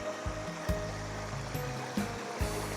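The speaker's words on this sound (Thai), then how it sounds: "ก็จะมาเจอกับ ลำธาร แล้วนี่พี่น้อง น้ำเริ่มไหลแล้วช่วงนี้เด้" Mountain stream water flowing steadily along a hillside creek, a continuous close rushing wash with a few brief louder splashes and no talking.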